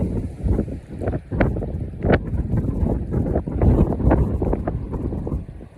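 Gusty wind on a mountainside buffets the microphone in uneven low rumbling bursts, loud and close, with no speech.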